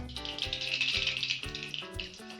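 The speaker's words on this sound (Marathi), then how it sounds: "तेल गरम झाले मोहरी टाकूया" Mustard seeds sizzle and crackle steadily in hot oil in a kadhai, a bright hissing spatter with a few soft clinks of a utensil, close by and moderately loud.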